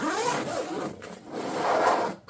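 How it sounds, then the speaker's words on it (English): A backpack zipper is pulled closed in two quick, rasping strokes, close and clear, with a brief pause between them. "Zip it up completely, get a little bit of shape to it."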